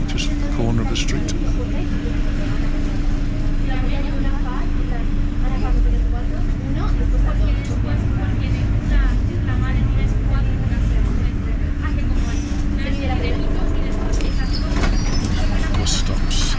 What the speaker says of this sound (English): Bus stops.